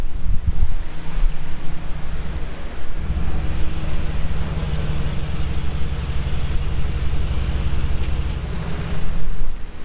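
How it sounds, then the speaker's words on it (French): A Mercedes G63 G-Class drives past near the Monaco casino square, a steady loud engine rumble with traffic around it, swelling slightly as it nears and passes. "Ici on a un G qui passe."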